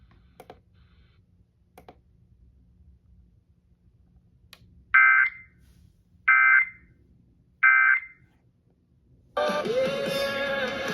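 Weather radio warning alarm tone test from K-LOVE WWLV-FM in Lexington, North Carolina: three short, loud, even tone bursts about a second apart, followed by a sustained harsh alarm tone beginning near the end.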